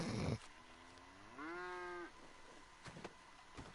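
A single cow in the Red Dead Online game gives one drawn-out moo, clear and fairly close, preceded and followed by faint brief clicks and rustles in an otherwise quiet scene.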